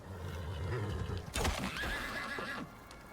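A horse in a video game whinnies loudly in a rising then falling neigh, with faint hoof clops and ambient noise around it.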